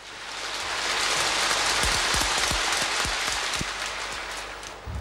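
Applause from a large crowd of delegates for Chinese premier Zhu Rongji as he leaves office, a dense steady wash of clapping that swells in and fades near the end, with a few sharper claps standing out.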